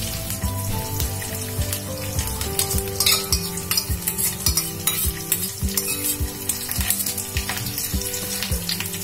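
Curd stirred into eggplant in a pan for dahi baingan, giving a steady close sizzle with repeated scraping stirs and faint utensil clinks and no voices.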